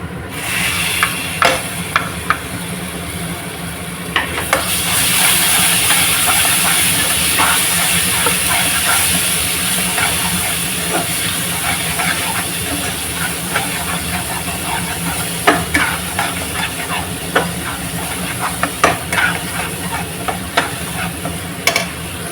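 Coarsely ground tomato hitting a hot pan for fish curry, a steady loud sizzle and hiss with scattered stirring clicks and scrapes throughout, heard up close with no talk.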